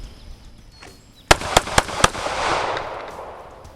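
Handgun fired at close range on a square range during a blocking drill, four sharp loud shots in quick succession about a quarter second apart, followed by a fading echo.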